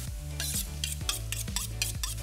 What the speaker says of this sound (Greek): Ο κρέας μας πάει μέσα στην κατσαρόλα. Και θα αρχίσουμε να του δίνουμε ωραίο χρωματάκι.